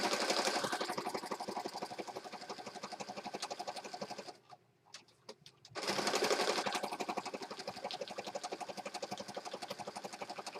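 A Master's Touch sewing machine stitches through a handmade peacock-themed journal, a fast steady mechanical whir with a rapid regular needle rhythm, loud and close, pausing briefly in the middle before resuming.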